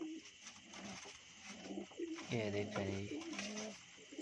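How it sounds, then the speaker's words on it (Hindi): Domestic pigeons coo in low, throaty bursts close by while two fight over space, with agitated rustling and flutters between calls, as someone speaks briefly over them. "ये दो कबूतर आपस में लड़ रहे हैं जगह"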